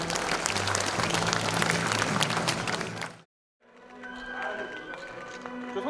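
Applause closing a 72nd anniversary ceremony for disabled veterans in Yongin, Korea: dense crowd clapping for about three seconds, a brief silent gap, then a second, thinner round of clapping.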